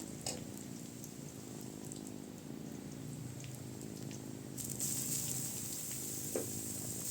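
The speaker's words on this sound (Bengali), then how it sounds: "একটা কড়ার মধ্যে তেল দিয়ে দিলাম পেঁয়াজ ও কাঁচামরিচ একসাথে দিয়ে দিব ভালোভাবে নাড়াচাড়া করে একটু ভাজা ভাজা হলে" Onion and green chili fry in oil in a pan with a soft, continuous sizzle, quiet and close, punctuated by a few light stirring clinks and a brighter hiss near the end.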